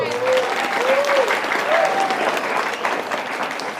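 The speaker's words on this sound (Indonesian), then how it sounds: "Tepuk tangan dulu buat Lampung ini." An audience at an Indonesian Islamic religious talk breaks into applause, steady dense clapping for several seconds with a few voices calling out over it.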